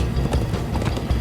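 Horses galloping in the Minecraft: Story Mode video game, a steady run of close, rapid hoofbeats thudding over a dense rumbling bed, with no talk over it.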